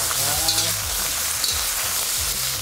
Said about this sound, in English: we'll put all our lobster back into the wok.